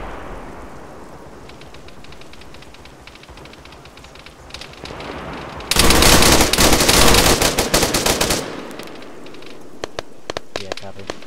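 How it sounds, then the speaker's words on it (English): Machine gun fire from the video game Arma 3 erupts in a loud, sustained burst of rapid automatic shots lasting a couple of seconds, with further isolated shots and a voice speaking around it. "Machine gun."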